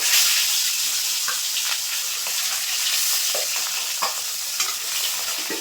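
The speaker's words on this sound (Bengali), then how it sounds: "বাকি যে মাছগুলো আছে একইভাবে ভেজে নেব" Rohu fish pieces fry in hot oil with a steady, close sizzle and hiss, broken by light scrapes and stirring taps, with no speech.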